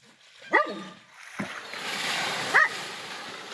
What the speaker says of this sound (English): Their dog, Sam, was equally astounded